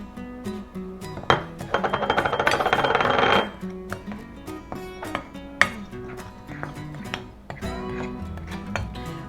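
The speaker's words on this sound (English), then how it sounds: "Mix in 2 tablespoons of cocoa and stir it well." Cocoa being stirred into self-rising flour in a bowl for cake batter: scattered clinks and taps of a utensil against the bowl, with a denser burst of steady scraping in the middle, close and fairly quiet.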